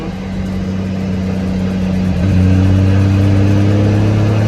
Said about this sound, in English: It's nice having a car that works